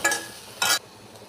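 A spoon stirs and scrapes frying food seasoned with turmeric and chili powder in a pan, in a home Tamil recipe. Two brisk scraping strokes sound over a soft, steady sizzle, with no talking.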